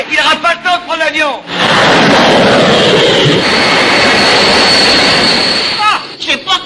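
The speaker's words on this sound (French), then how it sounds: "Oh, un avion." An airplane's jet engine roars in the film Fantomas se déchaîne, a loud, sustained rush that swells in after brief talk and fades as a voice returns.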